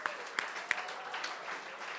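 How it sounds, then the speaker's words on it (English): Scattered applause from an art auction audience, a modest crowd clapping with a few sharp claps standing out over a soft, steady patter that carries on for a couple of seconds. "Give yourselves a huge round of applause."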